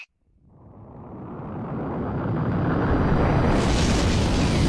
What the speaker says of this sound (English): our entire universe was born in the Big Bang.